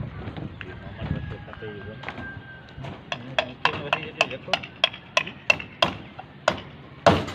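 Nails being hammered to fix an electrical fan box or light box for conduit wiring: a run of about a dozen sharp, fairly evenly spaced hammer blows, close and loud, following some handling noise and talk.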